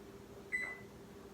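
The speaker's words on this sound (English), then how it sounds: "Go ahead and turn my oven on" A home kitchen oven being switched on, giving two short electronic beeps, one just after the start and another at the very end, over a faint steady hum.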